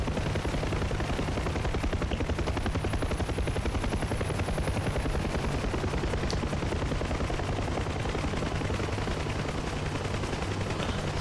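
A helicopter's steady rotor drone fills a scene in the DCS World flight combat game, with rapid bursts of gunfire rattling over it continuously and loudly, and no voices.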